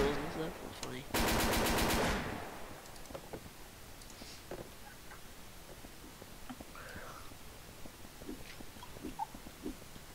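A PSG rifle in Garry's Mod lets off a short, loud, rapid burst of fire lasting about a second near the start, followed by quiet background with faint scattered clicks and murmuring voices.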